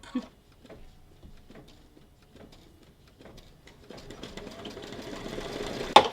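A ScanNCut cutting machine starts up after its start button is pressed, a sparse series of soft clicks and ticks gradually building into a steady mechanical whir and hum, close by and fairly quiet.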